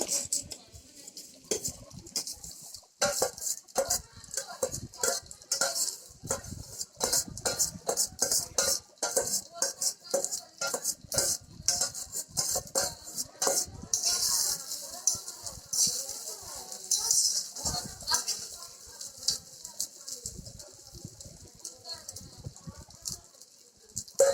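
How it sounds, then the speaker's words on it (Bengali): Rice for pulao fried and stirred in a pan, with a spoon or spatula scraping and clinking against the metal in an irregular, steady rhythm close by, and soft sizzling beneath. "সেই চালটাকে এবার ভেজে নেবো"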